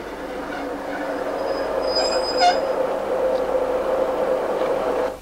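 A British Rail train on a single-track line rolls past close by with a steady rumbling roar, a high metallic wheel squeal rising midway and a sustained tonal whine to the end.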